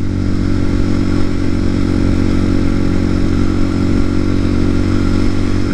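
TaoTao TBR7 motorcycle riding along, a steady loud engine drone with rattling clatter heard close up throughout and no clear gear change.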